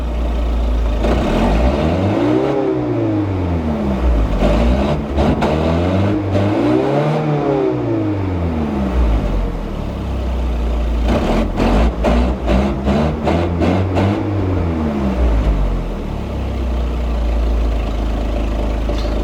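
A Volkswagen Golf with a troublesome engine idles and then revs up and down in a garage, loud and close, with several rising and falling rev sweeps over a steady idle and no talking.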